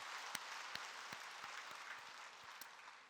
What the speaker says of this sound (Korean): 우리 주님께 영광의 박수를 드리십시오.